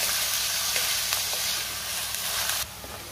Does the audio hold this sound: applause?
no